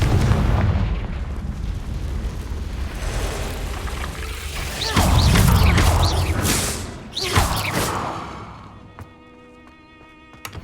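Fiery Confringo blasting spell in a Harry Potter video game, booming explosions in several loud bursts around five and seven seconds over a steady rumbling background, trailing off into quieter ringing tones at the end.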